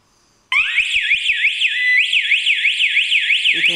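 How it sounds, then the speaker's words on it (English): An outdoor solar-powered GSM alarm system with a built-in strobe siren goes off when a door sensor trips, starting abruptly after a few soft clicks into a loud, warbling siren that keeps rising and falling, close by. "You can see the alarm system is alarming."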